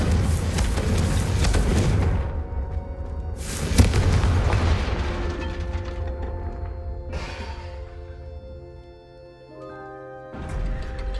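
Confringo fire-spell blasts in the video game Hogwarts Legacy, several heavy booming explosions a few seconds apart, each bursting loud and then fading into a ringing tail, with game music tones between them and no talking.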